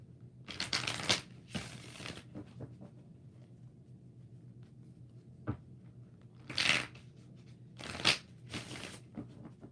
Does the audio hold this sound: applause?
no